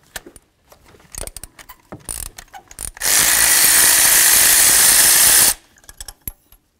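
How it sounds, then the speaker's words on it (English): A 5/8 spark plug socket loosening a spark plug on a 2007-2016 GMC Acadia: scattered ratchet clicks, then a loud steady power-tool whir for about two and a half seconds, then a few more clicks, close up. "Now let's remove our spark plug by using a 5/8 spark plug socket."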